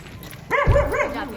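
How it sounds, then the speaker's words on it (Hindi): A dog gives a short burst of a couple of barks and yips in a welcome on arrival at a house, near and fairly loud over a low background. "कुत्ता हमारा स्वागत कर रहा है।"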